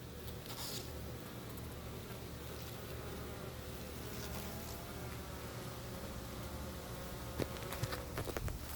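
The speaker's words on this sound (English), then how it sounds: "Lots and lots of bees." A dense, steady hum of many bees buzzing at a Flow Hive fills the air continuously, with a few individual insects flying past close to the listener.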